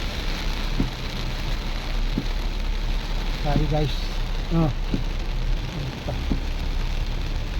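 Heavy night rain drums on a mini van in traffic in Coronadal, a steady loud wash over the roof and body, with someone speaking briefly through the downpour.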